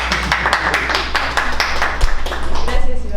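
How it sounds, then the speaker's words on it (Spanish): A seminar audience on cellular automata in biology claps in dense, steady applause for a few seconds, fairly close and even in loudness. "Un aplauso."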